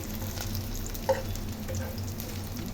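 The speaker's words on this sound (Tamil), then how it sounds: "இது ஷாலோ ஃப்ரை எடுத்துடலாம் பண்ணி எடுத்துடலாம்" Shallow frying pieces for veg egg curry in a pan, a steady soft sizzle and crackle throughout, close but fairly quiet, with one brief clink of a utensil near the middle.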